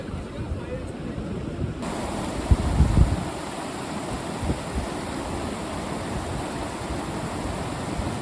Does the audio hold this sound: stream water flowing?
yes